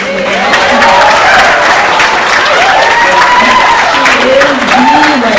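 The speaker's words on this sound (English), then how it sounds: "Everyone needs to give Nola a round of applause." Wedding guests at a reception applaud the bride's mother, a loud sustained burst of crowd clapping with cheers and voices rising over it throughout.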